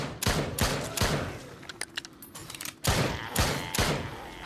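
Rapid gunfire bursts from the Spawn of the Dead zombie shooter game, clusters of sharp loud shots at the start and again near the end, with quieter thuds and clicks between.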